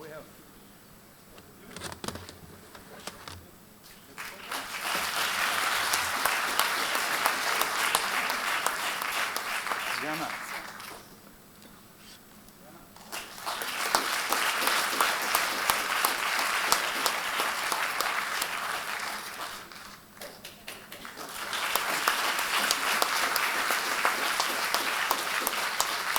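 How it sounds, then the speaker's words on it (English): Audience applause at a cryptography conference rump session, three long waves of loud, dense clapping from a crowd, rising and fading with quieter gaps between. "This is your applause."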